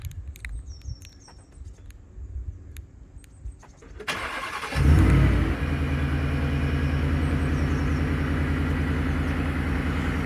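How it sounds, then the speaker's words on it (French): A 2019 Ford F-150 Shelby off-road V8 pickup is remote-started: after a quiet stretch with faint clicks, the engine cranks and catches with a loud low roar, then settles into a steady, rumbling idle nearby. "avec la télécommande ici présente de la clé, eh bien vous pouvez le démarrer à distance."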